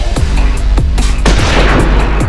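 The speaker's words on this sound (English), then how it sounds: "Why don't you shoot the enemy and find out?" Gunfire in a Jurassic Park video game, several loud, booming shots in quick succession with echoing tails, dense and forceful, no talking.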